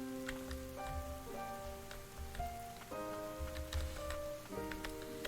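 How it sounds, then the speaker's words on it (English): Steady rain in the video game Ender Lilies, a soft patter of drops with scattered ticks under sustained, gently shifting musical tones. "You think me the sort of wretch to leave a child out in this horrid rain?"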